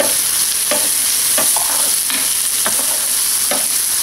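Ginger sizzles in a pan with softened onion and garlic for tinolang manok, a bright steady frying hiss broken by several scraping stirs of a utensil.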